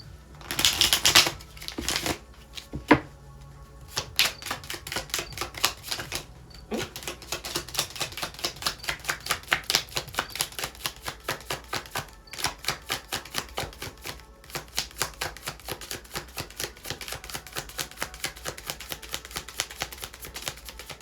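Tarot cards being shuffled repeatedly, long runs of rapid flicking riffles with brief pauses between passes, close and fairly quiet, no talking.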